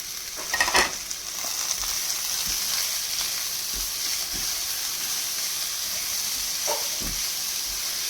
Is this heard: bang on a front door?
no